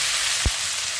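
Mustard seeds, cumin and ginger-chili paste sizzling in hot oil, a close, steady hiss with one soft thump partway through.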